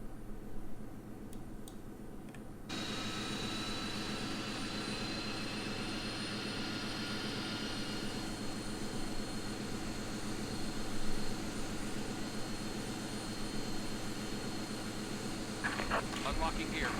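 A Boeing 767-300ER jet engine spools up in a flight simulator, a steady rising whine and roar that builds after a quiet start and holds continuously, with a brief clicking near the end.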